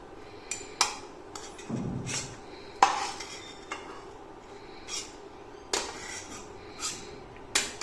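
A ladle scoops ghee-fried nuts for carrot halwa out of a pan and into a bowl, producing scattered metallic clinks, scrapes and taps at uneven intervals, close and with no talk.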